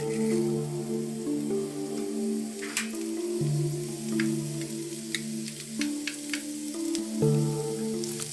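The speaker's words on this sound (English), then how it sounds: "Get the deep frying pan hot, add some oil, and get the garlic sautéing." Garlic sautés in oil in a hot deep frying pan, a steady close sizzle with scattered pops and crackles, heard alone over sustained background music tones.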